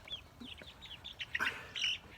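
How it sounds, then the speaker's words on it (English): Month-old chicks in a coop give a few soft, high peeps in quick, irregular succession, close by and fairly quiet. "these are the same chicks that were born about a month ago"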